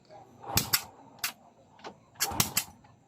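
A Honda XRM 125 motorcycle engine cranks during a compression test with a finger held over the spark plug hole, giving sharp puffing bursts in irregular groups, close by, with a voice in the background.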